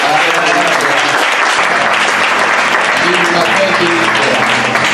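Steady, dense applause from a church congregation at an Apostolic Nouvelle Alliance gathering, unbroken and loud for the full stretch, with some voices mixed into the clapping.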